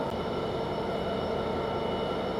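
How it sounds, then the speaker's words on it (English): A train moves slowly through Peterborough station, giving a steady, even rumble of wheels and engine at moderate distance without any voices. "Now this train is now slowly moving"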